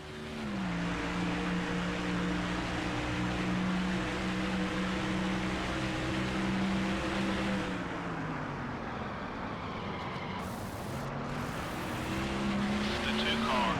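Simulated NASCAR stock car engine from NASCAR Thunder 04 at Daytona, a loud sustained drone with gear-shift steps in pitch and a brief hissy burst near the end.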